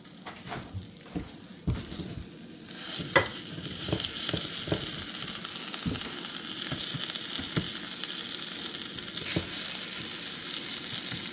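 Pumpkin cheesecake pancake batter frying on one side in a hot pan, with a steady close sizzle and hiss that builds and holds, broken by scattered soft taps and scrapes.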